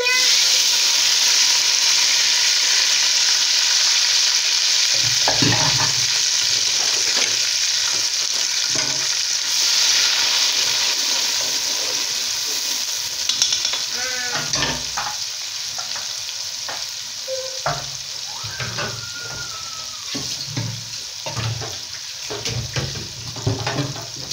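Locust beans and onion fry in a pot with a loud, constant sizzle and hiss, broken by irregular stirring scrapes and clinks that grow more frequent in the second half; close up, no voices.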